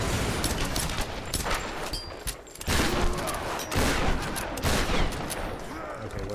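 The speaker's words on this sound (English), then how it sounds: "Explosions!" Loud, dense bursts of gunfire and explosions fill a Tomb Raider Survivor Trilogy game scene, rumbling almost without pause and dipping briefly once midway.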